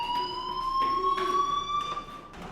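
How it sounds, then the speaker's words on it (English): An electronic fire alarm in the Life is Strange video game wails continuously at a steady, moderate level, a sustained tone with slight pitch drift and no talking over it. "do you hear that fire alarm? That means you should be outside."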